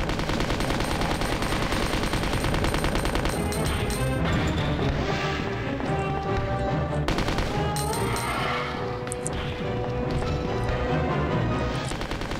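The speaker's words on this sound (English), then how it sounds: "And time for the machine gun." Resident Evil 2 machine gun fire, a continuous loud stream of rapid shots mixed with crashing impacts, sustained dense and close for the whole stretch.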